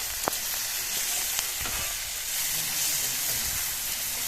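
Tomatoes and spices fry in a pan for a Bengali egg curry with a steady, close sizzle, broken by a few sharp clicks of stirring.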